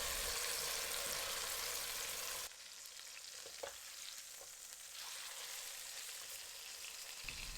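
Pork chops sear in bacon grease in a pan with a loud, even sizzle that drops down noticeably after a couple of seconds, then continues steady with a few small pops, no talking.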